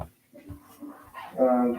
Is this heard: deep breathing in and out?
no